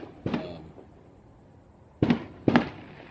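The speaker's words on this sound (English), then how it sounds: "those are fireworks" Fireworks bursting outdoors in the distance, three sharp booming pops: one, then a pause before two more in quick succession, each trailing off with a short rumble.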